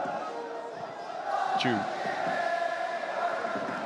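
Stadium crowd at a Gangwon FC versus Shanghai Shenhua AFC Champions League match, a steady excited roar rising and swelling beneath a commentator's voice.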